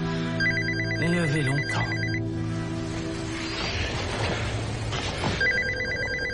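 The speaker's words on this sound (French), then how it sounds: "Le téléphone." A telephone rings with a rapid electronic trill in two bursts at the start and end, with a crash and brief speech between them in a French TV drama scene.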